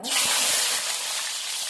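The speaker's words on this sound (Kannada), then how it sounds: "ಇವಾಗ ಎಣ್ಣೆ ಕಾದಿದೆ ಕವಳಿಕಾಯಿನ ಎಣ್ಣೆಗೆ ಹಾಕೋಣ" Sliced kavalikai (karonda) berries hit hot oil with a loud, continuous hiss and sizzle, heard close up throughout.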